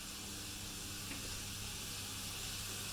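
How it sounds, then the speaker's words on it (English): Homemade burger patties sizzle steadily in a hot pan, a continuous close frying hiss with no talking. "And if you can hear that, they are starting to sizzle."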